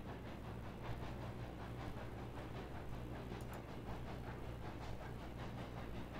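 A long freight train of 29 cars hauled by a Tenmile locomotive rolls along in the video game Railroads Online, giving a steady low rumble with rhythmic clacking and faint hiss, continuous and moderately quiet.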